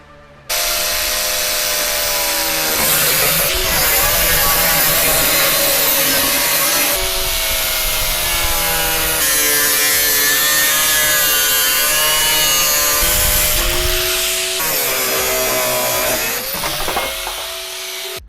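A power saw cutting through the bedside of a 2016+ Toyota Tacoma for a rear bumper install, a loud continuous whining grind with shifting pitch as the blade bites, briefly dropping and resuming in separate passes, close and without talk.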